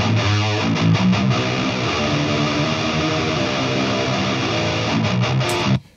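Distorted guitar riff played twice and re-amped through the same rig, the two takes layered into a thick, wide chugging wall of sound that runs loud throughout and stops abruptly.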